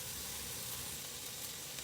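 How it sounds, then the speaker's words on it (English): Onions sizzle and fry steadily in a hot pan while cooking empanada filling, a continuous close hiss with no break. "So I added some more onions to that. They're frying up pretty good."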